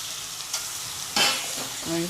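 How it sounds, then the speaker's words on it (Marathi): Mango pieces tossed into fried spice masala in a pan sizzle softly while being stirred, with a louder scrape of the spoon in the middle. "बारीक गॅस करूनच व्यवस्थित परतून घ्यायचं"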